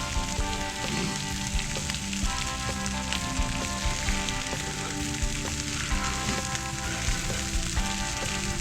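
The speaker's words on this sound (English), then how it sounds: "we're going to get some of our buffalo sauce in with the butter that's still melting" Buffalo sauce poured into still-melting butter on a hot Blackstone griddle, giving a loud, dense, steady sizzle and crackle that keeps up throughout, close and with no talking.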